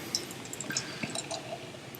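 Lagunitas Hazy Wonder IPA beer being poured into a glass, giving a soft, steady liquid trickle with a few faint drips and splashes, fairly quiet and close, with no talking.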